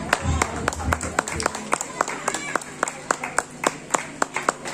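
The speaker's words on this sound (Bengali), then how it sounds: "সকলে একটু ঝুঁকে হাততালি দিন।" An audience at a committee gathering claps, with a dense burst of hands at first that thins into a sparser, rhythmic patter of individual claps, fairly close and continuous.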